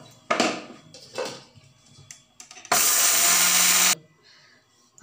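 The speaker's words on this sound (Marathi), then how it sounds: "करून घेऊ मिक्सरमधून, थोडे थोडे बारीक करून घ्यायचे।" Flaxseed and makhana ground in a mixer grinder in short pulses: a couple of brief rattling bursts, then one loud, steady whir lasting about a second before it cuts off to near quiet.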